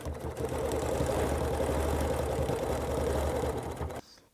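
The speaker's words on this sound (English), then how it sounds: "we can just hold this and travel with the machine" A sewing machine stitching the binding on a quilt, free-motion style: a steady, close mechanical hum and rapid needle clatter running continuously for about four seconds, then stopping abruptly.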